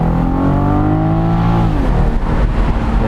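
Loud, close drivetrain and engine of a BMW M440i Cabrio under hard acceleration, a rising harmonic howl that climbs steadily and then drops at a quick downshift, continuing as a rough rumble.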